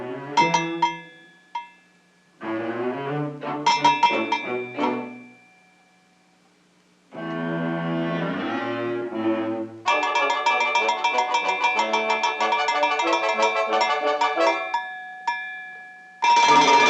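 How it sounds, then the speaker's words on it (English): Bright cartoon bell chimes ring out in quick clanging runs with brief pauses, set off by a pulled tail in an animated short, loud and alone with no talk. "pulling her tail would ring the bell"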